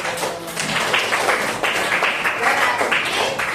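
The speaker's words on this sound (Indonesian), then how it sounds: "Tepuk tangan dulu." Elementary schoolchildren in a classroom clap together in a brief burst of rhythmic applause, steady and fairly close, lasting a few seconds.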